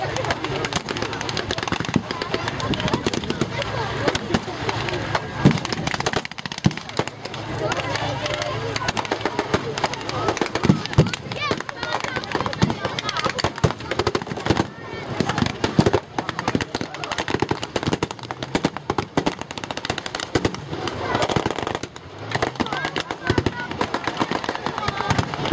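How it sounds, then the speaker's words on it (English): Automatic weapons fire from WWII half-tracks during a battle reenactment at the Victory Show in Cosby, a dense, continuous crackle of bursts and pops with distant booms, layered over crowd noise and talk throughout. "the automatic weapons on the half-tracks laying down and covering the fire as they disembark"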